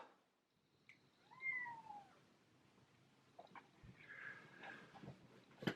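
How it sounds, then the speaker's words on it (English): A cat gives a soft, drawn-out meow, followed by a quieter second meow, in a hushed room with faint rustles. "You just gonna stand there and meow?"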